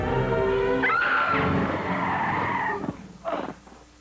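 A car's tires squeal in a long, loud skid as it strikes a bike in a 1992 karate movie, the screech fading into a short burst of clatter and commotion.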